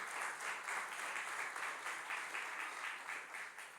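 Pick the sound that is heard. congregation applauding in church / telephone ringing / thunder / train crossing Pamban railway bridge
congregation applauding in church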